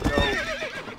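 Horse neighs loudly in the Red Dead Redemption video game, a long wavering whinny with the soft clatter of hooves beneath it, close and clear with no talking.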